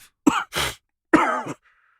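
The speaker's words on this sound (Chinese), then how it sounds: "爸，你的咳嗽怎么越来越严重了？" An ailing older man coughs and clears his throat in short, harsh bursts, two close rough throat-clearings with a sharp cough between, alone in a quiet room.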